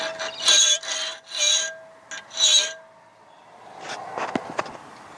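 An old metal spearhead is being filed by hand, giving several short rasping strokes in a row at close range. Faint scattered clicks and scrapes follow.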